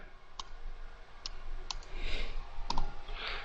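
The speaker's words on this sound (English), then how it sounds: "I'll type that one in quick." Several light clicks from a computer keyboard or mouse, spaced out in a quiet room with a faint hiss between presses.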